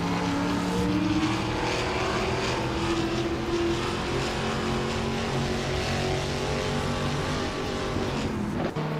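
Race cars, including a Ford Mustang, roar steadily through a video game race, engines droning loud and continuous with shifting pitch as they jostle for position.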